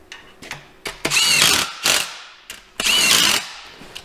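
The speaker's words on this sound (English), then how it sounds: "This thing gets about as tight as you can go by hand with a 3/8 drive wrench" A 3/8 drive ratchet wrench clicks in bursts of close, loud pawl ratcheting as bolts are tightened on a ZF transmission in a Cummins-powered Excursion, with short pauses and clanks between strokes.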